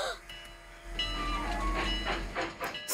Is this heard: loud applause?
no